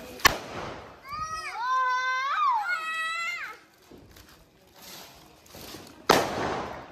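Two sharp bangs from small children's firecrackers go off nearby during Diwali, one at the start and one near the end, with a wavering high-pitched whistling tone between them.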